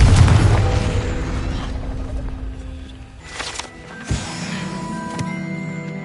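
A loud, booming blast from a Confringo spell in a Hogwarts video game opens the sequence, its rumble decaying, followed by a quieter pop and a lingering tail.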